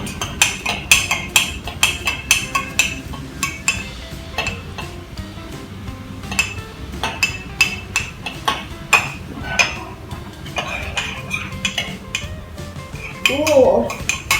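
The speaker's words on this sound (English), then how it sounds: "Mix until well combined." A spoon stirs chocolate cake batter in a tea cup, clinking and scraping against the ceramic in quick repeated taps over about fifteen seconds, close by, with a short bit of voice near the end.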